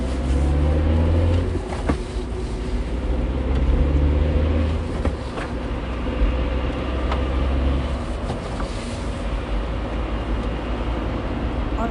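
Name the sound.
car started and driven away in a hurry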